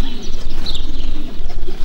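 Racing pigeons arrive at a loft after a 340 km race from Torgau, cooing steadily and close by over a continuous low murmur, with a brief brighter call partway through.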